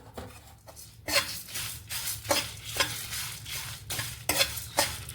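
Cumin, mustard and fenugreek seeds frying in a pan, a low sizzle broken by repeated rhythmic scraping strokes of a spoon stirring against the metal, close and fairly loud, no talking.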